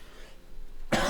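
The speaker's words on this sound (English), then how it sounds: "A little cough." A single short, sharp cough from a character in the game Ender Magnolia, close and fairly loud, breaking in suddenly after a quiet stretch with no talking.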